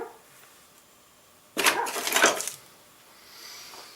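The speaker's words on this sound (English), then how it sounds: "Stupid dog. Be quiet. What are you barking at?" A dog barks in a short burst of several loud, close barks lasting about a second, set in a woodworking shop while tapered table legs are being tenoned; the rest is quiet room tone.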